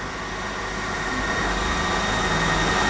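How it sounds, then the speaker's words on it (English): An air pump on an Algo Laser Alpha 22W laser cutter runs as a steady, loud broadband whoosh that holds even for the whole stretch, with no voices over it. "The pump is on."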